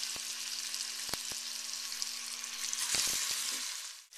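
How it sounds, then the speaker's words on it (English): Lamb loins sizzle loudly in a hot frying pan, a constant crackling hiss with a few clicks and clanks of utensils nearby. "Listen to that sizzle."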